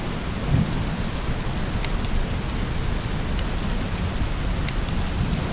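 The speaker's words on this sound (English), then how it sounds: "This rain is horrible and I am likely to catch a chill." Steady heavy rain with rumbling thunder in the Western Wilds setting of Farming Simulator 22, a dense continuous downpour that fills the scene at close range and never lets up, with no voices heard.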